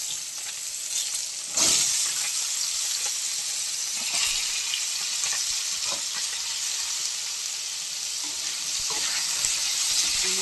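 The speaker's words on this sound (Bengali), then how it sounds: "এবার একে একে দেখুন বেগুন, আলু, মূলো এর মধ্যে আমি দিয়ে দেবো" Eggplant, potato and radish fry in hot oil with panch phoron spice, giving a loud, continuous sizzle with occasional stirring scrapes and no one talking.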